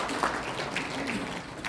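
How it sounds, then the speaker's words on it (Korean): Audience applause welcoming a speaker at a Christian civic forum and press conference in Incheon, a soft, even patter of clapping from a modest crowd, fairly faint and brief. "우리 박수로 맞이하겠습니다"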